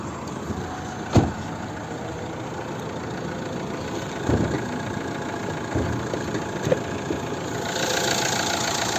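A 2013 Renault Megane III with a 1.6 dCi diesel engine idles steadily with a low, even diesel rumble, broken by a few sharp knocks or clicks, and a slight rise near the end.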